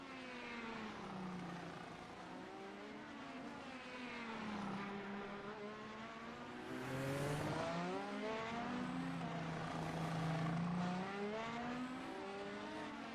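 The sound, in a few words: race car engine, video game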